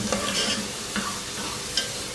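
Chopped onions fry toward golden brown in hot oil for Pakistani chicken yakhni pulao, a steady close sizzle with a few soft stirring scrapes and no talking.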